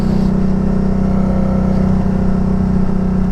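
A Can-Am Spyder ST-S engine with a slip-on muffler runs with a loud, steady, throaty drone, held close and constant without clear rises in pitch, and no voices present.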